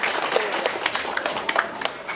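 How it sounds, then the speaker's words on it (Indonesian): An audience applauds at an award ceremony, a dense, steady patter of many hands clapping with a few sharper claps standing out. "Tepuk tangan untuk semua anak muda di Indonesia."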